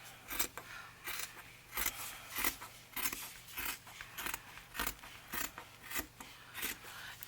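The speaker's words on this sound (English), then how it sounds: "So I'm gonna trim this off here, and I'm just gonna follow that other piece of fabric." Scissors trimming fabric for a tapestry journal, a rapid regular series of crisp snipping cuts, about two per second, close and quiet against a faint low hum.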